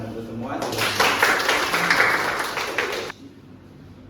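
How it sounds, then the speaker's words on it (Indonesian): An audience at an Indonesian school event on global diversity bursts into applause, rising for about two and a half seconds over a background voice before cutting off sharply into a quieter room. "Tepuk tangan untuk semua."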